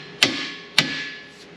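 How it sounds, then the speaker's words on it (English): A brass hammer strikes a bolt in a C3 Corvette trailing arm, giving two sharp, close metallic knocks about half a second apart, each with a brief ringing tail, and no talking. "Now we need to knock that bolt out right here. I use a brass hammer a lot"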